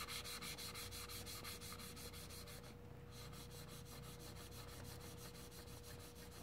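Steady quiet grinding and rubbing as an engine valve is lapped against its seat, a continuous soft abrasive friction with a faint repetitive stroke, close by and alone with no voices.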